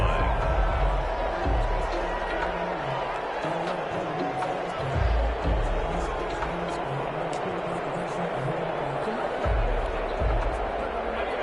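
A stadium crowd in a football video game roars steadily in the background during a playoff game, with a commentator talking over the constant cheering and hubbub.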